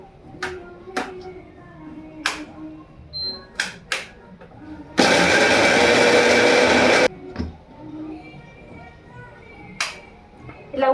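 A mixer grinder whirs loudly for about two seconds, grinding poha and potato for fritters, set between scattered clicks, taps and handling noises, with a voice speaking in the background.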